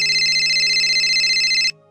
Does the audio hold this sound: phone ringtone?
yes